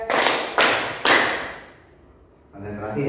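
Three sharp hand claps in a counted clapping game in an Indonesian classroom, evenly spaced and loud, followed by children's voices talking.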